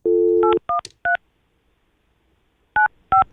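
Touch-tone telephone keypad beeps while placing a call: a dial tone cut off by three quick DTMF digits, a short pause, then three more crisp tones, loud and close with no talk.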